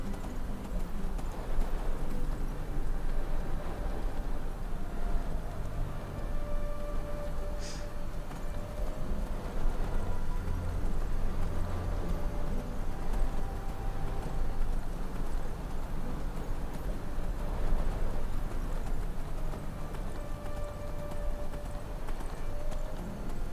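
A horse's hooves clip-clop at a steady trotting rhythm in the video game Enderal, moderately close and continuous over a low ambient game bed, with no talking.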